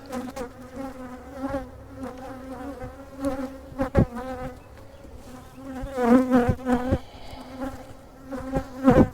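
Honey bees buzz in overlapping drones close by during a mid-summer hive inspection, with louder passes as individual bees fly near and a few sharp clicks and knocks from the hive work.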